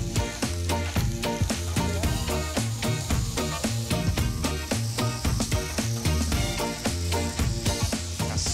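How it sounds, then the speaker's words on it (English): Scallops salted and laid into a hot pan with a little canola oil, giving a loud, steady sizzle and crackle throughout with a faint, quick repeated ticking underneath and no voices. "salt on the scallop helps with the sweetness and into a hot pan with a little canola oil"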